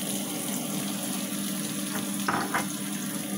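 Potatoes fry in a pan with a steady, moderate sizzle and crackle, with a couple of brief scraping or stirring sounds near the end.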